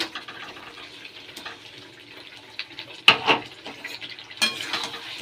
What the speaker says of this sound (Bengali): আর এই ভাজা আলুগুলো দিয়ে দেবো এবারে এর মধ্যে